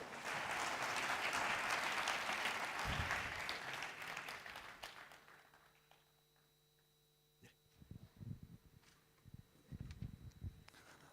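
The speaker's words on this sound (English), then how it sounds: "A huge round of applause, ladies and gentlemen." A loud round of applause from a festival crowd fades out over several seconds, followed by a quiet room with a steady electrical hum and scattered thumps and rustles.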